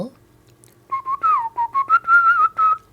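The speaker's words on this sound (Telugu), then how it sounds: "ఆ భావాన్ని విజిల్లో పలికించాలి" A Telugu song melody is whistled close and clear, a sequence of bright sustained notes with slides and short breaks between phrases, alone over a faint low background hum.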